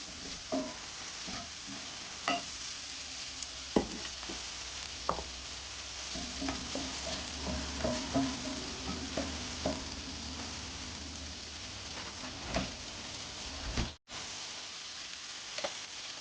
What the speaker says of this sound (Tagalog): these are all the meat that we've been frying on this pan